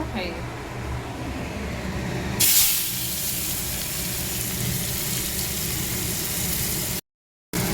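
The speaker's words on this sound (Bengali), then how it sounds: "এই যে পেঁয়াজটা লঙ্কাটা একটু ভেজে নেবো" Sliced onion and green chilli frying in a pan for mashed potato chokha, a broad steady hiss and sizzle with a louder burst as they hit the oil, continuing under a voice throughout.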